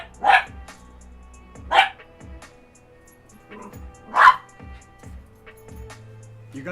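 A dog barks three times, loud and close, with irregular gaps and faint whimpering sounds in between.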